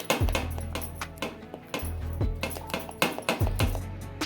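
Pot and bowls clink repeatedly as coconut junnu, a milk pudding made with fresh coconut, is served into bowls; the knocks and clatters come close and fairly loud in an irregular rhythm, with no talking.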